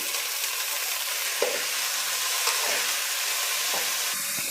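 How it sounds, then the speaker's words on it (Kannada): A steady, close sizzle of onions and chopped beans frying in a pan, with occasional soft scrapes of stirring and no one speaking. "ಈರುಳ್ಳಿ ಫ್ರೈ ಆಗಿದೆ ಸಣ್ಣದಾಗಿ ಕಟ್ ಮಾಡಿ ವಾಶ್ ಮಾಡಿ ಇಟ್ಟಿರೋವಂಥ ಬೀನ್ಸ್ ಸೇರಿಸ್ತಾ ಇದ್ದೀನಿ"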